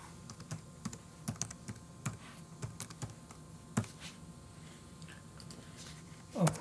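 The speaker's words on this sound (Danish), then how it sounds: "Skriv din e-mailadresse." Quiet, irregular keyboard clicks as an e-mail address is typed into a Hotmail account setup, close and soft against light room noise.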